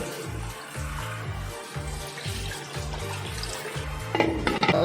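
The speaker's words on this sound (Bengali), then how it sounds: "এখানে জল অ্যাড করবো আমি আর একটু সামান্য জল দেবো" Water is poured into a pot of biryani made with desi rice, giving a steady close splashing and running-water sound with a rhythmic low burble, and a few clinks near the end.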